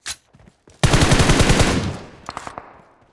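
Rapid automatic gunfire in BGMI's Livik mode, a loud burst of fast repeated shots after a few scattered pops, fading into a short trailing volley.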